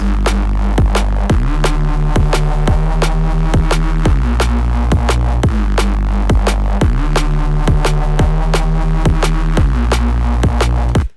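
A loud, steady drum and bass beat with a punchy kick and sharp snare, repeating in a tight loop under a sustained bass line, no voices.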